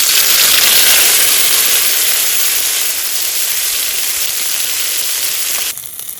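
Raw cumin paste dropped into hot oil already holding bay leaf and whole cumin, giving a loud, bright, continuous sizzling hiss that eases slightly before cutting off near the end.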